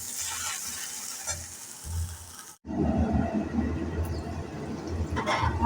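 Okra and Kashmiri chili sizzle in a pan over low flame while being stirred, a steady close frying hiss with brief scraping stirs and a short pause midway.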